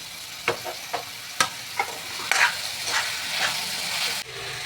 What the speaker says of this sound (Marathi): आता आपण कांदा घालत आहे याच्यामध्ये. गॅस जरा फास्ट ठेवा.